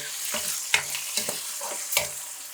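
Hissing sizzle of grated coconut frying in oil, broken by four or five rhythmic scraping stirs of a spatula, close and fairly clear, no speech.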